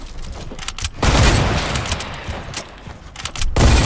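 Rapid volleys of gunfire ring out in a sniper shootout video game, dense bursts alternating with shorter gaps, loud and close throughout.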